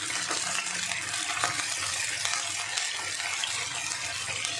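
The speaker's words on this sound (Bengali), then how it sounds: "আর একটু সামান্য জল দেব" Water pours steadily into a cooking pan while fish is being cooked in a mustard sauce, a continuous close gushing splash with no talk over it.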